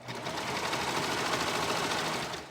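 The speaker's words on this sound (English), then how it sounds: "we're just sewing the edge of the elastic right onto the top edge of the swim bottoms" A sewing machine runs steadily, stitching the edge of elastic onto the top of swimsuit bottoms, a close, even whirring hum that holds for a couple of seconds without pause.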